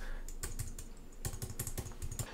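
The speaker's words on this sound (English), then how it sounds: "This is a different type of typing sensation versus my Macs." Keys clatter on a Dell XPS 15 9560 laptop keyboard in two short bursts of quick typing, close and clear with a brief pause between them.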